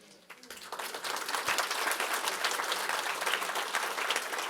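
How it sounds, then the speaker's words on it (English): Sustained applause from a crowd, dense steady clapping that swells after a quieter start and holds loud throughout. "He's someone who deserves the applause now."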